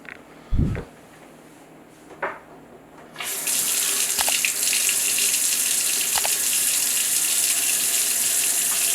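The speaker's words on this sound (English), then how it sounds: "Turn your water back on." Water from a Delta gooseneck kitchen faucet, just rebuilt, gushes on after a few clicks and knocks of the handle, then runs in a steady loud stream into the sink.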